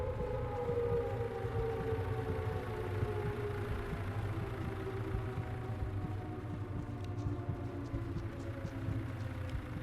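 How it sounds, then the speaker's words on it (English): An air raid siren from a video game wails steadily, its rising and falling tone sustained and loud throughout, with no one talking. "This is air raid siren."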